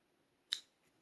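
Scissors make a single sharp, quick snip while cutting the yarn tail on a crocheted angel Christmas tree ornament, close and isolated in a quiet room.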